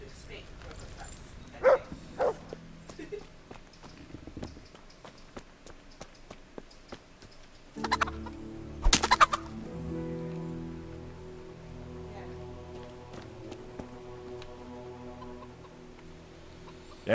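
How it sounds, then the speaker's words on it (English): A dog in the video game Kingdom Come: Deliverance gives a few short barks and yips early on, followed by rain-like ambience and game sounds with low tonal hum, while someone talks throughout. "There's the good doggy."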